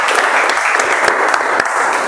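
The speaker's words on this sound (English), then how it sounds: "start with the clap" A room of club members at a Toastmasters meeting claps together to open the session, a short, dense burst of close, steady applause with no voices over it.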